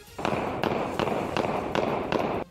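Rapid bursts of gunfire from an AK-47 rifle and pistols fired into the air on a street, five or six loud, sharp volleys in quick succession, with no talking.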